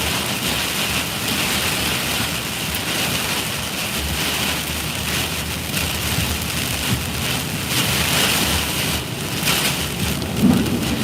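Heavy rain pours steadily during a tornado storm chase near Waynesboro, Mississippi, a dense, loud, continuous hiss of drops pounding the surface with low storm rumble beneath and no voices.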